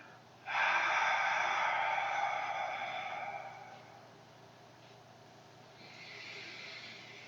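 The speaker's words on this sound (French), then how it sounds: "quand j'expire, j'expire pas à la bouche" A single long breath pushed out through the nose during a Pilates breathing exercise: a strong, close, airy rush that fades over a couple of seconds, followed by a quieter second breath.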